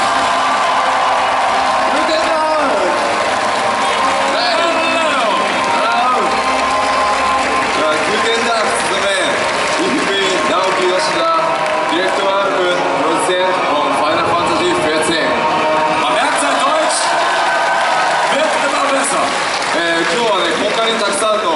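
A large audience in Cologne, Germany, applauds and cheers steadily for Final Fantasy XIV director and producer Naoki Yoshida, a dense, continuous wash of clapping with scattered whoops and voices throughout.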